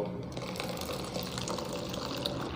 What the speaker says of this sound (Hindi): यहाँ पे आप गिलास रख सकते हो ये गिलास में से आप झूंस निकाल सकते हो